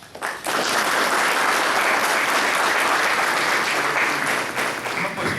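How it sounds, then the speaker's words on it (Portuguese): Audience applause welcoming a speaker at a meeting on the honey export market, breaking out after a brief pause and holding as dense, steady clapping across the room. "Vamos receber com salva de palmas o Carlos"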